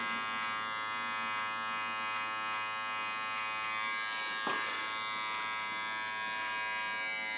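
Electric hair clippers fading hair for a skin fade, a steady close buzzing drone that holds level throughout, with one brief brush or contact sound partway through.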